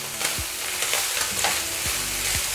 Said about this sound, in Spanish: Solamente lo vamos a revolver y vamos a apagar el fuego.